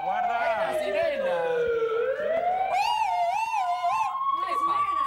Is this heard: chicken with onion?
no